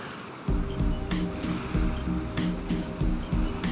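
Ocean surf washes onto a warm sandy nesting beach where sea turtles lay eggs, a steady rumbling wash with periodic breaking swells rising and falling, close and fairly loud with no voices.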